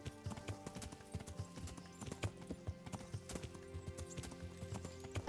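Horse hooves clip-clop in a steady, repeating rhythm inside a video game, with an occasional soft neigh over faint background music.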